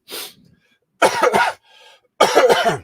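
Three separate coughs, close and fairly loud, each a short raspy burst with brief quiet gaps between them.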